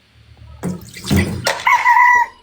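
Rooster crows loudly and close by, a rising then sustained call after a quiet start with some clucking and dripping sounds.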